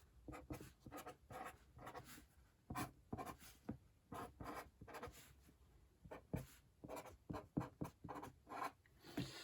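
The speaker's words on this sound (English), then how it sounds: "Let me draw this and write out this equation again." A chemical equation being written out by hand, with soft scratchy pen strokes in short, irregular bursts, quiet and close, with no talking.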